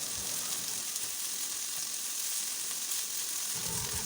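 Onions and tomato frying in a pan for country chicken curry: a steady, close, hissing sizzle throughout with no speech, a slight low rumble rising near the end.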